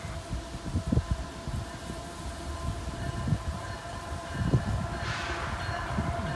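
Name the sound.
Norfolk Southern freight train approaching, likely intermodal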